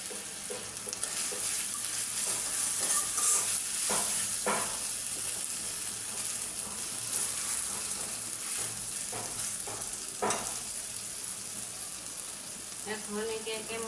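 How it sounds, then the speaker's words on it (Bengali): Onions, ginger, garlic and green chilies fry in hot oil, a continuous close sizzle broken by repeated scraping stirs of a spatula, with a voice talking at times over the cooking. "আদা রসুনগুলো একটু ভাজা হবে।"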